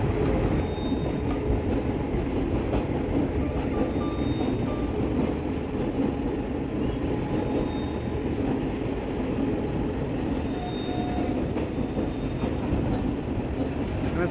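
A train runs on rails near Khidirpur docks in Kolkata, recorded from on board, with a constant loud low rumble and rolling wheel noise and a few faint high squeals throughout.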